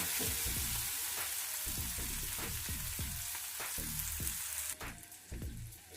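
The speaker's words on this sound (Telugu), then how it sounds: "ఇప్పుడు ఈ టమాటాలలో ఒక 1/2 స్పూన్ ఉప్పు వేసి ఉడికించుకుందాము" Tomatoes cook in a pan with salt for a Telugu minapappu dal recipe, giving a dense, continuous sizzle broken by repeated scraping stirs, close and fairly quiet, ending in a brief louder hiss.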